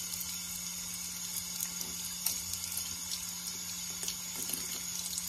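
Tap water runs steadily into a sink while paper face masks are washed by hand, a continuous close hiss with faint splashes and handling noises and no talking.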